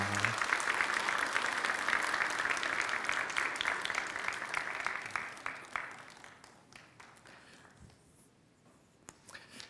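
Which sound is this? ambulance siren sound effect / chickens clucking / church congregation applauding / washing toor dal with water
church congregation applauding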